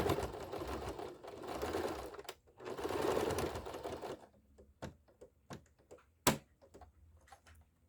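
A sewing machine stitches a synthetic leather wallet in bursts of steady mechanical whirring for about four seconds, then falls quiet except for scattered clicks and taps of handling.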